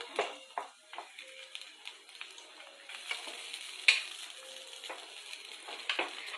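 Boiled rice is tipped into a frying pan and stirred, giving soft sizzling under repeated scraping and tapping of a spoon against the pan, fairly close and uneven in rhythm.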